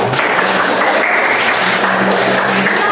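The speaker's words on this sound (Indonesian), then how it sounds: "Tepuk tangan." A class of students applauds at the end of a lesson on processing materials, giving dense, steady, loud clapping throughout with no talk over it.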